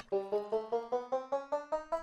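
A Minecraft note block on a hay bale plays its banjo tone, ten evenly spaced plucked notes ringing out alone in a quick steady rhythm.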